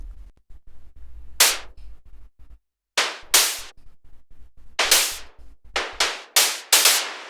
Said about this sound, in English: Then we have these little noise stabs which sound like this.